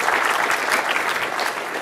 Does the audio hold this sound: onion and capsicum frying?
no